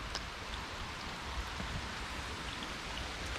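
Rain falls steadily at a pond, a soft, continuous patter of drops hitting the water and surrounding surfaces with no voices.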